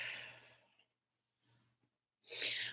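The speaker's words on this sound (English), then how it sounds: "Breathing out." A person breathes out during a guided breathing exercise: a soft exhale at the start, a faint breath in the middle, then a louder, closer sigh-like outbreath at the end, with no talk.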